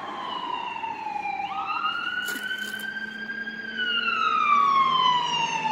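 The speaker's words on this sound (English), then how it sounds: "That's a fire truck," A fire truck siren wails loud and close, sweeping up and down in long continuous rises and falls over road noise, with a brief burst of broadband noise partway through.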